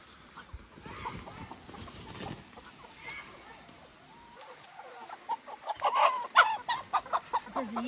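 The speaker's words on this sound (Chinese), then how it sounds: "你看这个母鸡" Hens and capons in a rural farmyard cluck in a rising burst of short, repeated calls. The birds are quiet at first and grow louder and more insistent toward the end, with faint human voices nearby.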